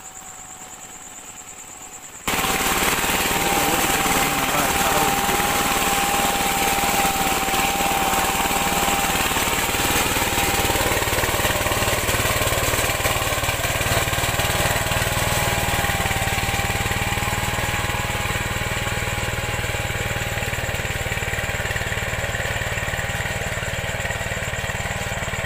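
A VST Shakti power tiller works between rows in a sugarcane field, its engine droning loud and steady close by after it starts up, with a constant mechanical hum and rattle and no talking over it.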